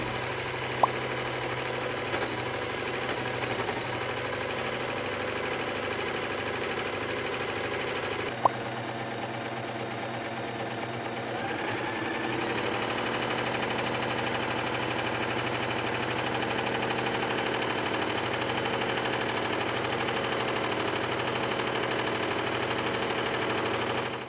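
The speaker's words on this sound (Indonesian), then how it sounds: "aku mau tunjukin ke kalian gimana sih bunyi mesin jahit ini" A Butterfly JH8530A sewing machine runs steadily up close, a continuous mechanical whirring and clatter that holds an even level throughout, with no voices.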